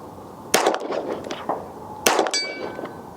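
Two sharp metallic clangs of a rifle bullet striking a steel target at a shooting range, the impacts about a second and a half apart, each ringing briefly before fading.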